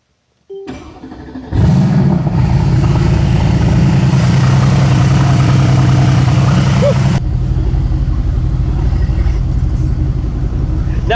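A 1000-horsepower Mercedes-AMG GT fires up with a sharp starter crank, then settles into a loud, steady, deep idle held close to the car before easing slightly lower near the end.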